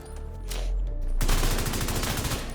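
Rapid gunfire in The Division 2, a dense burst of shots setting in about halfway through and rattling steadily to the end, close and loud, with no talk.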